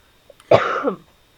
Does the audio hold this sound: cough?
yes